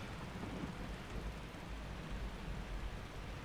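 Rain falls during mowing in the Farming Simulator 22 video game, a steady soft hiss of rainfall over a low rumbling engine-like drone, continuous and even throughout.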